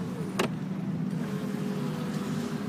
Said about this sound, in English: Alright, we're test driving the Celica.